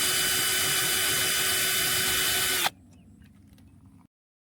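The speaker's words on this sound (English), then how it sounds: "You'll notice we're using the drill quite a bit, which is why we've included the right drill bits in the kit." A power drill runs steadily while driving screws into an aluminum RV flagpole holder, a loud continuous whine that cuts off abruptly and leaves faint mechanical clicks before silence.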